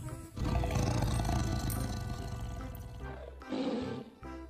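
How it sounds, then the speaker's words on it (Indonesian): A Sumatran tiger lets out a loud, close roar, one long growling bellow followed by a shorter second roar, with a brief gap between them. "harimau Sumatera."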